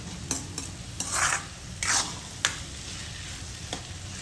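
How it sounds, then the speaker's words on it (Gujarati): Dried onion is stirred and roasted in a pan for veg gravy Manchurian, with a steady low sizzle and a few bursts of spoon scraping and clinks, close and alone. "હલાવતું રહેવાનું અને શેકાવા દેવાની"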